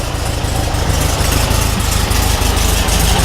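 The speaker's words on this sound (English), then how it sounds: "that's just the way these old Boxer 4s idle" A 1.6 liter horizontally opposed four-cylinder boxer engine in an old VW Beetle idles steadily and loudly up close, a low rhythmic chugging pulse with no talk over it.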